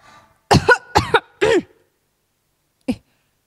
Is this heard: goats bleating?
no